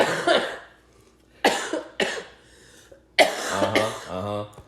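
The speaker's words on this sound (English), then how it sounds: "Them nervous coughs." Several sharp, nervous coughs come close together in short bursts, followed by a brief burst of speech.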